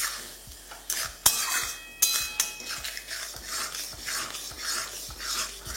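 A spoon stirs tomato and salt masala in a pan. There are light scraping and clinking strokes, a few sharp metallic knocks and a faint sizzle underneath, heard up close with no talk.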